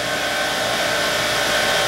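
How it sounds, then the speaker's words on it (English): A hot tank parts washer runs nearby with a continuous, even whirring roar that stays unchanged throughout, with no talking. "as you can hear, the hot tank's going"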